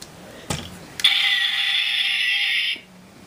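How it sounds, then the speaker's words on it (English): A brief click, then a sustained high mechanical whirring buzz that holds steady for about two seconds before cutting off abruptly. "if you press down on this to where the gun deploys"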